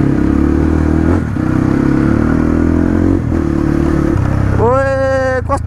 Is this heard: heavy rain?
no